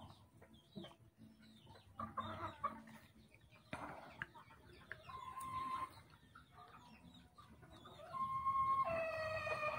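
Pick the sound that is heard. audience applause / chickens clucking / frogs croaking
chickens clucking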